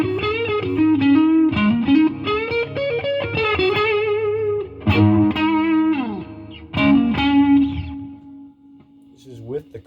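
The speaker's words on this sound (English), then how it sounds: "This is with the chorus." Electric guitar running through a Fulltone Octafuzz pedal with a chorus pedal into a Fender Super Champ amp, playing a loud, continuous stream of fuzzy, shimmering chords and riffs that thins to a fading sustain at the end.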